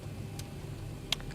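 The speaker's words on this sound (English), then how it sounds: "you hear a click" A sharp cockpit switch click in the X-Plane 12 flight simulator, a single brief snap near the end over a steady low cabin hum, with a fainter tick earlier.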